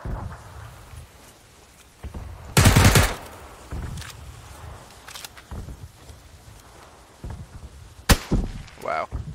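Gunfire in an online shooter game, a dense loud burst of shots followed by scattered single cracks and a sharp late report, with footsteps and game clatter in between.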